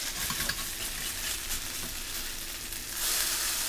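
Hash browns fry in a pan with a loud, steady sizzle and crackle throughout, briefly louder near the end as they are flipped.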